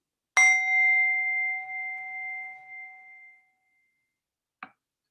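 A single bell is struck once to open a journaling session, ringing clear and close and then slowly fading over about three seconds, followed by a faint tap.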